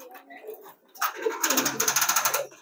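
Male pigeon cooing while driving the hen, a soft murmur at first, then a loud close burst of rapid, rhythmic pulsing notes that carries on to the end.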